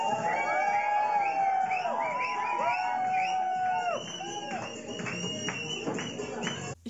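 An Indian audience at a dance performance cheers wildly, with whoops, shouts and sustained crowd noise. Loud, wavering voices rise and fall throughout, then the roar thins toward the end.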